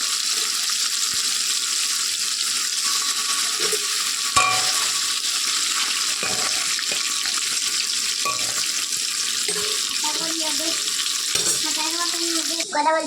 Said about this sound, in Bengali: মাংসটা ভাজা করে নিচ্ছি তেল দিয়ে